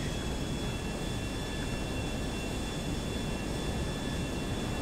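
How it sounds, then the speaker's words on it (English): A fighter jet flying in GTA Online, heard as a loud, steady, broadband roar that stays constant and fills the whole stretch with no break and no voices. "I actually have a fighter jet heading straight at me."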